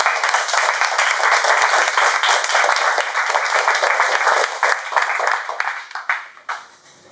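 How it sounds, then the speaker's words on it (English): An audience claps for the chief judge at a Toastmasters meeting, a steady dense round of applause that holds strong for about five seconds, then thins and fades out. "would you stand so we can give you a round of applause?"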